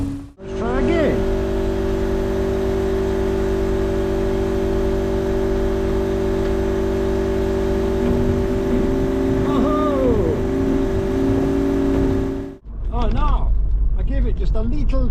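A 1992 Vauxhall Cavalier Diplomat engine held at a steady high-rev drone for about twelve seconds with a constant tone, then cut off sharply, followed by people talking.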